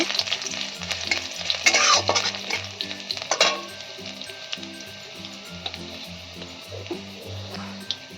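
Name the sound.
minced garlic frying in a pan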